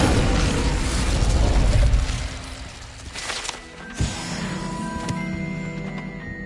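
A fire spell is cast in the Hogwarts Legacy video game, a loud burst of rushing flame that fades within two seconds, followed by a sharp pop and a lingering magical shimmer.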